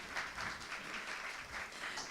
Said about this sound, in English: One round of applause for my very, very strong panel,